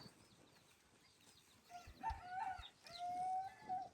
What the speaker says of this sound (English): And I need you to crow.